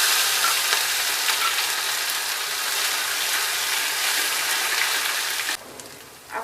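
Red chilies, curry leaves and ginger-chili paste fry in hot oil for a chana sabji, giving a steady, loud, close sizzle that runs unbroken for about five seconds before dropping away quietly at the end.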